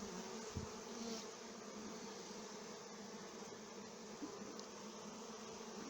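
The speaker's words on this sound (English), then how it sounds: "all the new bees are settling in." Honeybees from two colonies newly combined into one hive buzz in a steady, dense drone, close and continuous with no pauses or voices.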